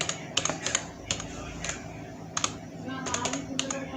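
Typing on a computer keyboard in Microsoft Word, with irregular bursts of crisp key clicks close to the microphone and steady low background hum between strokes.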